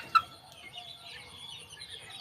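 Chickens on a small countryside farm give faint, sparse clucks and calls, with one brief sharper note near the start, heard alone at a distance against a quiet outdoor background.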